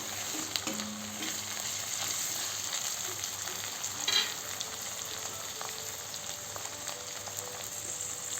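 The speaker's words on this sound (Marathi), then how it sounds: "यात टमाटर घालू चिरलेला" Chopped tomatoes frying in a pan for chavli bhaji, a Marathi black-eyed bean dish: a steady, close sizzle throughout, with a brief stirring scrape midway and faint clinks.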